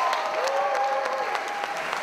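Thunderous applause at the Musica Mundi Festival 2019: a thick, even wash of many hands clapping at once, loud and continuous, with a faint steady tone running underneath.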